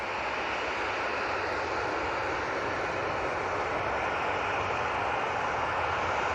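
A Lufthansa airliner in Star Alliance livery on final approach to touch down at Manchester Airport, a steady broadband jet roar that holds at moderate level throughout, with no voices.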